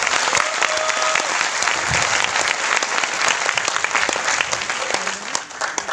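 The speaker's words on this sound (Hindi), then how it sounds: "मैं चाहता हूँ एक बार दोबारा जोरदार तालियां अपने लिए बजाएं।" Energetic, dense applause from a large audience at a Vestige gathering in Bhopal, loud and sustained with scattered cheers and whistles throughout.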